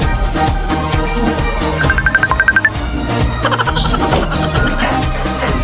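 A cellphone rings out on a live call to a contestant, a repeating electronic trill of bright tones set against a loud music bed.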